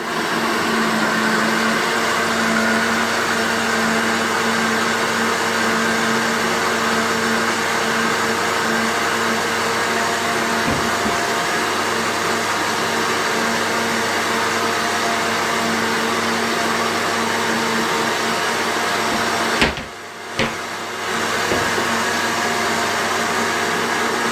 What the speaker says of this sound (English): just pop it in the blender. Just blend it up for a couple of minutes